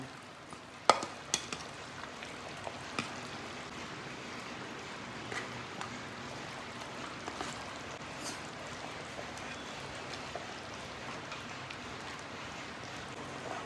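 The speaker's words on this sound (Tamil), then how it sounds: "நல்லா தலைப்புலப்புலன்னு கொதி வருதுங்க" Potato and green-vegetable kulambu (curry) boiling steadily in a pot, a soft, continuous bubbling and crackling texture with scattered small pops, fairly quiet and unbroken throughout.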